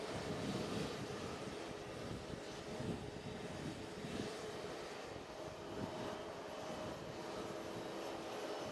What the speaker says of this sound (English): So I believe we got an Avianca coming out in front of us here.